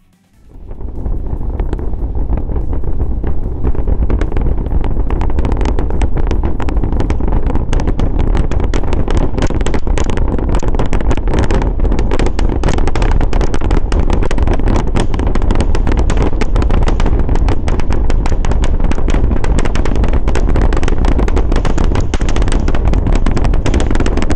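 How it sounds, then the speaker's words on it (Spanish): A SpaceX Starship lifts off on the thrust of its 33 engines, a massive continuous roar that swells in within the first second and then holds loud and crackling, heavily distorted, for over twenty seconds with no voices. "ver elevarse esta mole gracias al empuje de sus 33 motores"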